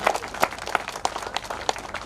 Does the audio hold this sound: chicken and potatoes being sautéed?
no